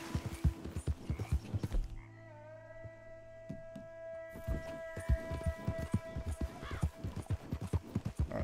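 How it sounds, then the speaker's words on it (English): Horse hooves clip-clop in a quick, rhythmic trot in Red Dead Redemption 2, pausing briefly for a drawn-out tonal whinny-like call before the hoofbeats resume close and clear. "Oh, that other horse is still hanging out here."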